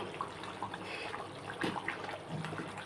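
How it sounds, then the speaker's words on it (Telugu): Crab curry boiling hard on a full flame, giving a quiet, close, steady bubbling with small irregular pops and gurgles throughout. "ఇంకా మరగాలి అందుకని మళ్ళీ ఫుల్ మండ పెట్టేశాను"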